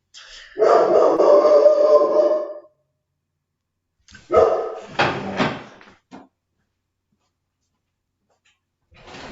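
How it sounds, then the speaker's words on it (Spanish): A pet dog barks indoors at home in two loud, close bursts, a sustained run of barking followed by a shorter cluster of barks, with quiet gaps between. "Tiene un ladrido importante el tipo."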